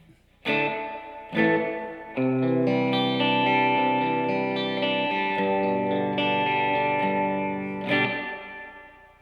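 An electric guitar plays sustained, distorted chords through a Laney IRT15 amp's reverb, each strike ringing out with a long, washy tail.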